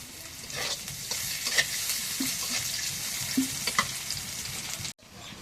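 Cooking oil sizzles steadily in a pan while biryani is made with mutton fat, a constant hiss with occasional stirring scrapes, close and alone until it cuts off near the end.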